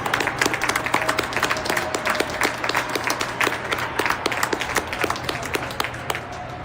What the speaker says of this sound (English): That's the clapping that you hear right now.